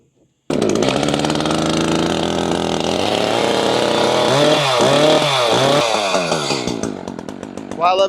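A chainsaw, one of several used while cutting firewood alongside a mini excavator and not started for about five months, runs loud and close, its engine buzzing steadily and revving unevenly near the end.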